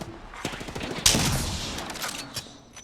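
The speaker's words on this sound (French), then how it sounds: "J'essuie les tirs." Gunfire in the battle royale video game Apex Legends: a rapid burst of automatic shots with a loud impact near the middle, then scattered shots fading off, close and dense.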